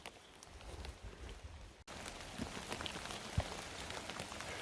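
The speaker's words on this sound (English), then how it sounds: "The predicted rain has come in right about when it was supposed to, and it's been gradually increasing to a rain." Rain falling on a state forest during a hike, a steady patter of drops on leaves and ground that fills the scene, briefly dipping before continuing evenly, with no voices.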